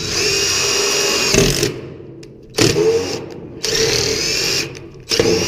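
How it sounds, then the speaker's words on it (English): Power drill with a 1/2-inch zip screw whirring steadily through metal, stopping and restarting several times in short bursts, close and loud. "just use a zip screw to drill the hole"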